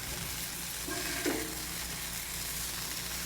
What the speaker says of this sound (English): I'm going to go ahead and flip these sausages over, put the dome back on for a few more minutes